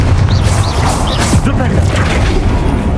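Magical fire blasts from the Confringo spell in Hogwarts Legacy combat, several loud booming bursts in rapid succession over dense, rumbling game noise, with shouted spell incantations mixed in.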